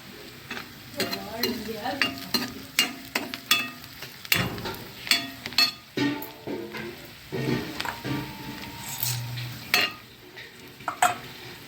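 Shevala upit, a savory semolina dish, being stirred in a pan: steady sizzling under repeated scraping and clinking of a spoon against metal, irregular close strokes every half second or so, no talk.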